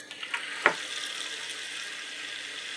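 Tap water runs in a bathroom sink over a dyed yarn cake being rinsed, a steady close hiss of flowing water with a few small splashes and one brief louder clunk near the start.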